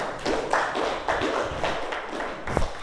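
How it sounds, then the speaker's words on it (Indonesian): Students in an Indonesian classroom clap for a classmate in a short, uneven burst of claps lasting a few seconds, close and moderately loud, with no talking over it. "Tepuk tangan untuk Mas DJ"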